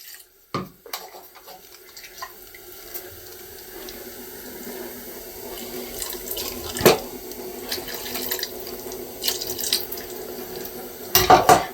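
Water runs and splashes steadily into a container of vegetable gojju at close range, with a few clinks of kitchenware and a sharper knock near the end.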